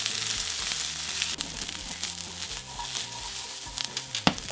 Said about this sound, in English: Now in with our garlic and we're going to saute this up for another minute.